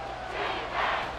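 Stadium crowd roaring in Madden NFL 24 during a goal-line football play, a broad steady cheer that swells midway.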